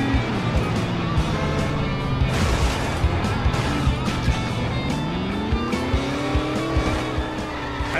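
A black car in The Simpsons Hit & Run drives hard with a loud, continuous engine drone whose pitch sweeps up and down, while tires squeal through the turns. Game music and effects play underneath the whole time.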